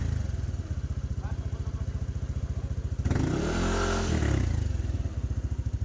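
A Yamaha NMAX V2 scooter engine idles close by with a steady, rapid putter, then revs briefly for about a second before settling back to a smooth idle.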